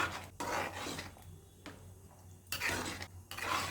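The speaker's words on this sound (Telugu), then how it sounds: "ఇప్పుడు మనం చక్కగా కలుపుకుందాం." Cutlet mixture with chaat masala being mixed in a bowl, giving scraping, rubbing strokes of a spoon against the bowl that come in uneven bursts, close and fairly soft, with no talking.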